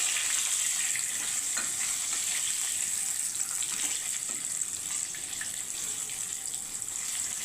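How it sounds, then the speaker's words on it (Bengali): Potatoes and spices fry together in a pan for an egg and cauliflower curry, giving a steady, close hiss of sizzling oil that holds evenly throughout, with faint crackles and no voices. "আলুটা ভাজতে ভাজতে আমি মশলাগুলো ভাজবো"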